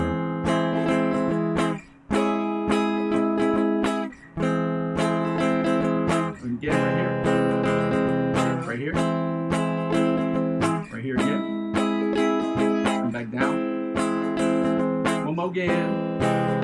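Inside chords on an electric guitar ring out in a steady rhythmic pattern of repeated strummed hits, loud and close, with brief gaps between chord changes.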